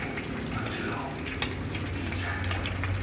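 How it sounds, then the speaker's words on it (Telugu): Fish frying in hot oil, a close, continuous crackling sizzle with scattered pops and a low bubbling hiss, steady and fairly quiet throughout. "చూడండి ఫ్రెష్ ఫ్రై అవుతున్నాయి."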